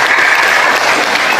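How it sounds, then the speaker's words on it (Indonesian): Steady, dense audience applause from a seated crowd at a talk, loud and continuous throughout the short burst with no voices. "Tepuk tangan."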